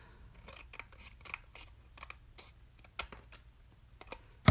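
Craft paper being cut with scissors at close range: a series of crisp, irregular snips, some quick and some spaced apart, fairly quiet, ending in a sharper louder cut, with no talking.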